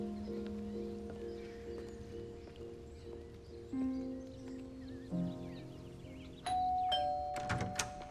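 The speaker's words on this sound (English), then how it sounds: "Can you go inside and listen for the doorbell?" A doorbell chimes with clear sustained tones over a quiet background, followed by a louder ringing burst near the end.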